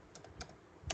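Shell script code being typed on a computer keyboard: three quick, close keystroke clicks spread across about a second, crisp and fairly quiet.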